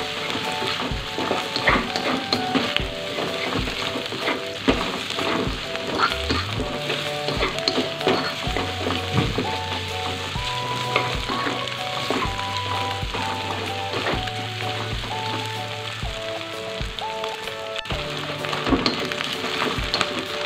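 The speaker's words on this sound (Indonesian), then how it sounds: "Sambil aku mau masukkan juga sosis dan juga bakso. Aduk kembali, masak terus sampai matang." Sausage and meatball pieces sizzle and fry in a pan, with steady loud frying hiss throughout and repeated rhythmic scraping knocks of stirring, while a sustained musical background runs underneath.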